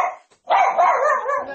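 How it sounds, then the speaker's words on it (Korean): A dog barks loudly at the front door indoors: a brief yip, a short pause, then one drawn-out, growly bark that carries on for about a second, with no talking. "아, 오늘은 좀 짖네."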